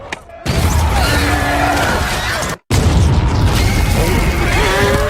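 Loud, sustained booming blasts from bomb traps going off in a film battle scene, one long roar cut by a brief drop to silence and then a second heavy rumbling burst with crackling debris.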